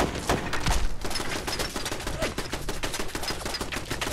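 Rapid, sustained automatic fire from a Fallout 4 turret, a dense rattling stream of close, loud shots with no talking over it.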